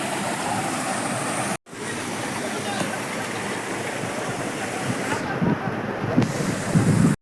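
Rushing water from a small waterfall on a monsoon trek up Harichandragad, a loud, steady broadband roar with wind buffeting the microphone, cut briefly by a short dropout, then swelling louder near the end.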